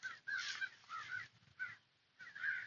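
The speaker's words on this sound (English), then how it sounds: "That's a hawk and four crows." Crows caw in an anime chase scene where four crows go after a hawk. Four harsh, spaced caws sound fairly faint and distant, with no voices.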